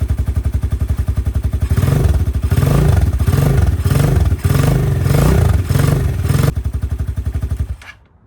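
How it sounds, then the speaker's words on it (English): A KP Mini 150 motorcycle with a swapped Hawk 250X engine idles nearby with a steady, chugging rumble, not yet warmed up, briefly rising in a couple of throttle blips before settling and cutting off at the end. "right now throttle's not happy, it's gotta warm up, very cool motor, but it runs, it's good, it's idling."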